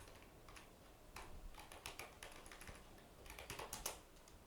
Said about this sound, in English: So let's type here using